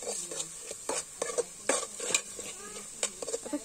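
Mutton is stir-fried in a pot over a wood-fired stove: a spatula scrapes and clinks against the metal in irregular strokes, with a light sizzle underneath.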